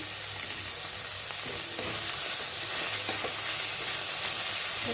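Spinach frying in a pan gives a steady, close sizzle with light scraping as it is stirred, continuous and loud throughout with no talking.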